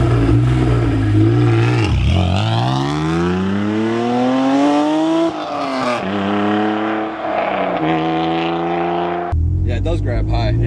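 A modified Acura NSX revs up through the gears as it pulls away, its engine note climbing loud and close with shifts between pulls, while people talk inside the car.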